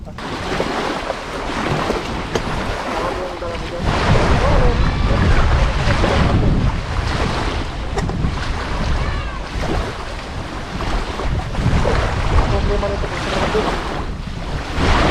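Strong wind buffets the microphone in loud, continuous gusts on a fishing boat in Canada, with rushing water and the boat engine underneath.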